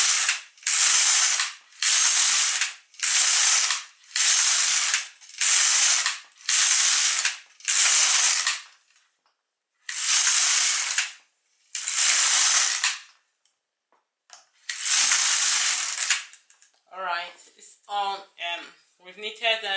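An LK150 knitting machine carriage is pushed back and forth across the needle bed while knitting a sweater sleeve, a loud close rasping ratchet-like whoosh repeated in regular row-by-row passes, followed by brief talk at the end.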